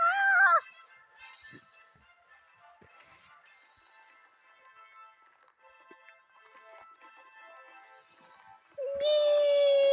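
Short game-style cat meows open and close the clip, bright and electronic, with a quiet tonal background and soft taps in between.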